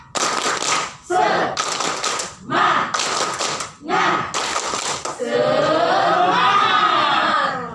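A workshop group performs a rhythmic spirit clap in bursts of patterned hand claps separated by brief pauses, followed by a crowd voicing a drawn-out chant.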